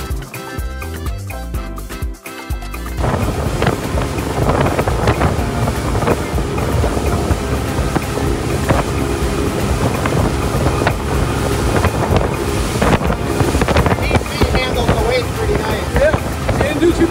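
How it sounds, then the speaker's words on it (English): A two-stroke outboard motor on a 22-foot Pro-Line center console boat drones continuously and loudly over buffeting wind and water noise, steady throughout after a brief quieter start. "It was a two-stroke motor, but she was purring like a kitten."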